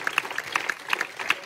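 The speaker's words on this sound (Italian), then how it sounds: "Quindi fatele un applauso" Audience at a political rally in Broni, Pavia applauds in support of a mayoral candidate, a light scattering of individual claps heard at moderate distance, sparse and uneven rather than a dense ovation.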